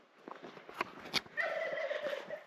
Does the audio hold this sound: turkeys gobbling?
yes